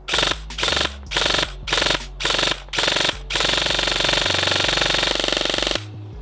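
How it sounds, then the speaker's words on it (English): A G&G MCP 556 airsoft AEG rifle fires on full auto: several short, sharp rattling bursts in quick succession, then one long sustained burst, loud and close. "I love how responsive the gun is on semi-auto, but even the full auto dump."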